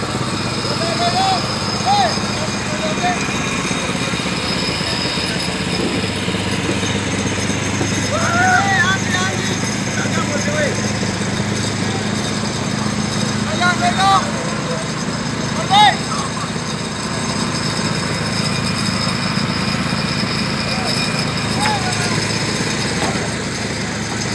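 Small motor boats on the river between Thanchi and Remakri produce a steady engine drone that runs the whole time at a constant level, with faint voices now and then.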